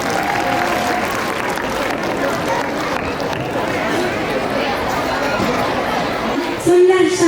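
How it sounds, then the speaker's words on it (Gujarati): Audience at a school annual function applauding teachers, a dense sustained wash of clapping and crowd babble filling the whole stretch, loud and even, with a brief louder tonal sound near the end. "તો એ દરેક શિક્ષકો માટે પણ એક વખત તાળીઓ થઈ જાય"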